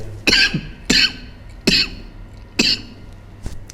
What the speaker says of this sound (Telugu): కొంచెం దగ్గు వస్తుంది